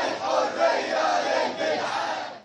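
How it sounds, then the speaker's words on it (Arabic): A protest march crowd in Abu Kabir, Egypt, chanting against the coup, a dense, continuous roar of many voices in rhythmic chant, loud and close throughout. "هذا هتاف رافض الانقلاب في أبو كبير ضمن مسيرة للمطالبة بتحقيق أهداف ثورة 25 من يناير"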